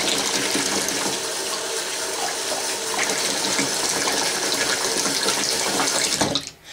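Water from a tap runs steadily and loudly while cherry tomatoes are rinsed under it, a continuous splashing flow that cuts off abruptly near the end.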